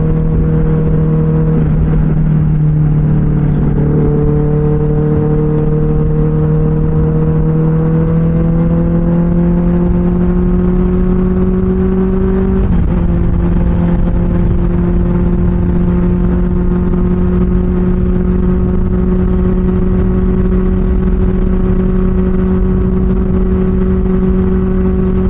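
A Benelli 600i superbike's engine and exhaust while riding: a loud, steady drone close by whose pitch climbs gradually as the revs build, with a small step up partway through and no voices.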